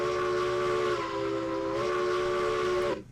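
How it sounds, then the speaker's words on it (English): A video game steam locomotive whistle blows a long, steady chord for about three seconds, pitch dipping briefly midway, then cutting off abruptly. "Let's see, what does our whistle sound like?"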